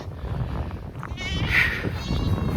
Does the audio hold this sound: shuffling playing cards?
no